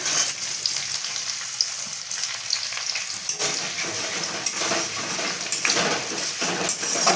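Chopped onion fries in a pan for a small breakfast pasta, a loud close sizzle with spatula stirring and occasional clinks of metal against the pan, no voices.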